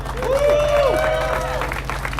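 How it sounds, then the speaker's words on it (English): A crowd at a rally against wage theft applauds a councilmember. Close, loud clapping runs under a long rising whoop or whistle from someone in the crowd, then tapers slightly. "Let me give a huge round of applause for Councilmember Lene Palmisano."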